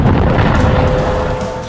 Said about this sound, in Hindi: पहले धमाका, फिर पोस्ट का बड़ा हिस्सा ढह जाता है और आग लग जाती है।